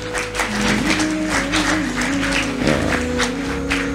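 Audience applause at an Islamic religious gathering, a broad wash of clapping from many hands that holds steady for about four seconds, with a faint tonal hum running underneath.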